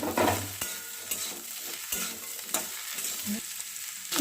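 Potato and cauliflower fry in a pan of oil with a steady sizzle, broken by scraping stirs and light clinks at irregular intervals.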